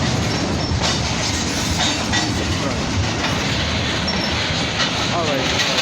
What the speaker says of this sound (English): CN, the CN train